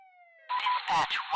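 An emergency vehicle siren in the Rescue 2: Everyday Heroes video game begins as a faint steady tone, then swells into a loud wailing, warbling siren for the rest of the moment.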